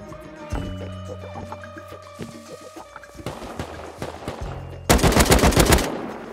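Automatic AK rifle bursts crack out in the survival game Rust, fired in rapid rattling strings with a louder, denser volley near the end, heard alone over game ambience.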